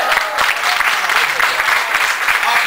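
Loud, sustained applause from a church congregation during a Bulgarian sermon, dense clapping filling the space without pause, no speech over it.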